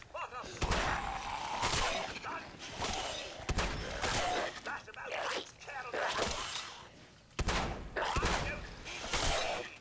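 Rapid bursts of gunfire in the video game Fallout 4, loud repeated volleys in clusters with brief gaps, under a player's voice.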